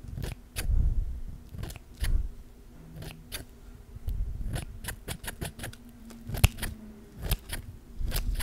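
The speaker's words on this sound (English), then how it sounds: "I'm gonna hold the scissors so it doesn't get too big, so I'm just gonna snip like this." Scissors snip repeatedly near the ear in a close-miked ASMR roleplay, crisp metallic cuts in an uneven rhythm with soft handling and mouth noises between them.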